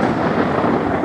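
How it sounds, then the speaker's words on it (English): Thunder rumbles through a rainy-season storm in Thailand and Laos, a dense, steady roar that fills the whole short moment with no break and no voices. "The flash of lightning and thunder, there's not a lot of time between the two."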